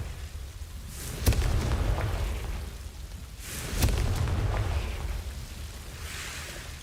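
Two heavy fiery blasts from the Confringo fire curse in Hogwarts Legacy, each a sharp crack swelling into a rumbling roar, with a fainter whoosh trailing at the end.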